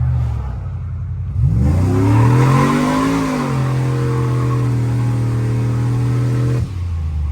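A boosted cammed truck engine winds up hard at full throttle, a loud, rising roar that climbs in pitch, then holds a steady, even rip before cutting off abruptly, heard close with no talking.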